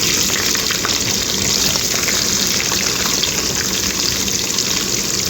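Onion and curry leaves sauté in hot oil for a ridge gourd buttermilk curry, giving a loud, dense, unbroken sizzle that fills the whole stretch with no pauses and no talk.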